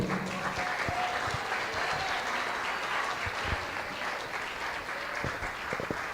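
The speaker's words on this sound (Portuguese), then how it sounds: "Aplauda ao Senhor" Applause fills a church as the congregation claps for the Lord, a sustained, even roar of many hands with a few sharper claps standing out near the listener.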